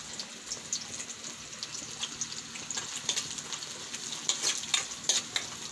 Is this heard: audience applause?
no